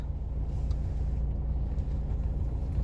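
Car engine idling low and steady while pulling in for diesel at a fuel station on a night drive to Udaipur, a continuous close rumble with no voices.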